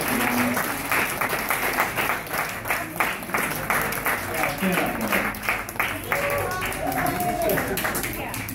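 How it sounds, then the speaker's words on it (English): A roomful of guests at a 60th wedding anniversary party claps warmly for the guests of honor, a steady rattle of many hands with voices talking and calling out over it. "Let's give a warm round of applause to Rainey and Marguerite"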